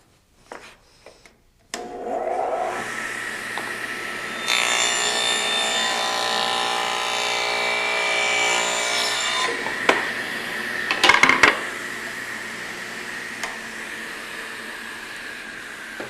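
Table saw with a featherboard holding the wood, running up to speed, then ripping through the board for several seconds with a loud, even rasp before spinning down, followed by a few clunks.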